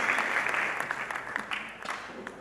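A church congregation applauding, a continuous wash of clapping from many hands that eases off slightly toward the end.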